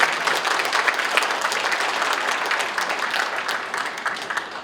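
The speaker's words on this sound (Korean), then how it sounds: "다시 한번 박수 부탁드리겠습니다." Steady audience applause at a ceremony, dense sustained clapping from a large crowd filling the room evenly for several seconds with no talk over it.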